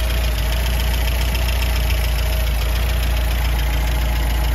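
A 1964 MG B Mk1 with a 90-horsepower engine and electronic ignition idles steadily, a constant low rumble with even, close and loud running and no talk.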